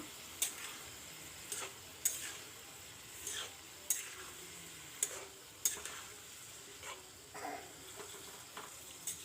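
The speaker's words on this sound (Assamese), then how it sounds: "আকৌ অলপ সময় ভাজি থাকিম।" Taro fries quietly in a pan while a utensil scrapes and taps against it in regular stirring strokes roughly every second, close and soft without speech.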